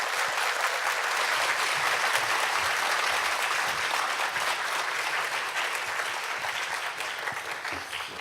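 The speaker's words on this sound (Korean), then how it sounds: "따뜻한 박수로 기쁘게 환영하겠습니다." Sustained applause from a church audience at Yeouido Baptist Church welcoming a pastor, a dense, steady wash of clapping that holds evenly throughout before tapering slightly at the end.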